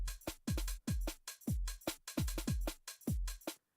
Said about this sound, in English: I wanted to add like a little bit of a garage kick.